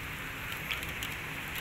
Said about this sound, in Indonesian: Wah, ini malah hujan teman-teman.